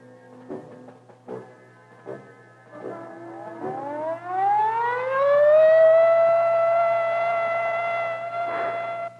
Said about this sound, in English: Attack warning came at 2015 hours.